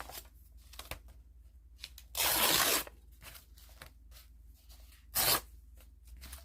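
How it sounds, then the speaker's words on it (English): Vintage paper torn by hand to free a picture for junk journal crafting: two distinct loud ripping bursts, one longer near the start and a short sharp one later, with quiet handling rustle between. "you just tear out your picture or photo that you want to use"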